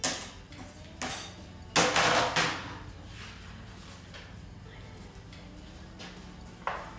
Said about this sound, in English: And then we're going to add our onions to the pan.